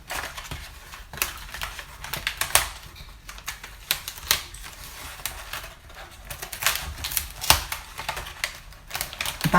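Adhesive vinyl peeled away from its paper backing: a close, crackly run of sticky tearing and snapping ticks, irregular and continuous with small louder pops, heard alone without talking.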